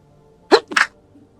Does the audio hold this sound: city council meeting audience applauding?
no